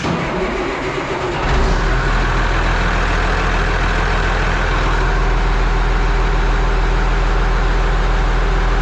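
A heavy diesel engine of a Case Magnum tractor turns over and catches, then settles into a loud, steady running rumble close by.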